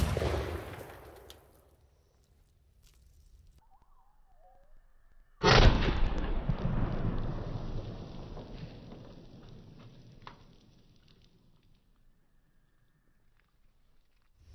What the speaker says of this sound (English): shoot some jugs and see what kind of explosion we get out of them